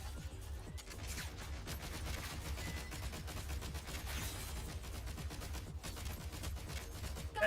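Rapid gunfire in the video game Genshin Impact, a dense stream of quick shots and impacts running steadily throughout, fairly loud with no talking.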